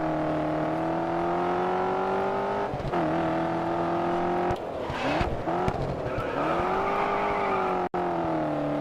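A tuner race car's engine in the racing game GRID Autosport drones at steady high revs, with brief dips at gear shifts and some tire squeal, loud and continuous with no talk.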